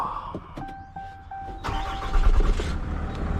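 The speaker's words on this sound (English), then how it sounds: "start the truck." A truck engine cranks after a few short beeps and catches with a loud low rumble, then settles into a steady close idle.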